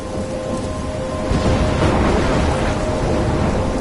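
A thunderstorm in Life is Strange Remastered, with a dense hiss of heavy rain and a low rumble of thunder swelling in the middle, steady and loud throughout.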